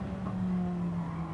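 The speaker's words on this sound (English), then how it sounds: "He's really closing up under braking." Steady engine drone with a faint tire squeal as a race car brakes in a racing video game, a sustained moderate tone held for the whole short moment.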